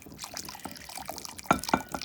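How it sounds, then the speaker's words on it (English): Water is poured slowly into a gelatin mixture for a gel printing plate, giving soft, faint splashes and drips with a couple of slightly louder plops near the end. "So now I'm going to add in my water."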